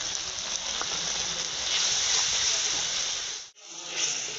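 Ground turmeric, chilli, coriander and cumin sizzle in hot oil with a splash of water, a loud continuous hiss that briefly drops out near the end before resuming.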